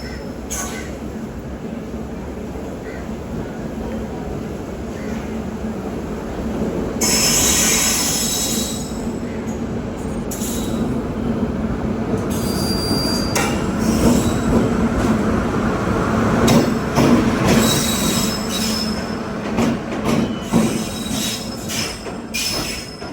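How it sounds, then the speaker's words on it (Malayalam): A Thiruvananthapuram–Chennai Mail passenger train pulls out of the station, its wheels squealing loudly over steady rolling rumble and clatter, growing stronger partway through, with faint voices in the background. "ഇപ്പം നമ്മുടെ വണ്ടി എടുക്കും"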